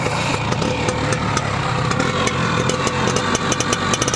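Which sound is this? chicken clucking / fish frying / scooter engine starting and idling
scooter engine starting and idling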